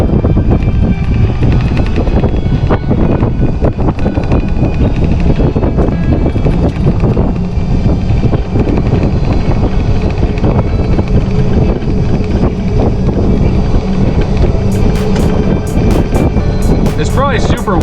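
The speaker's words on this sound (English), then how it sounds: "It's probably super windy if you guys can hear this." Strong wind buffets a microphone outdoors at an airport, a loud continuous rumble and roar that fills the whole stretch, with a voice partly heard through it.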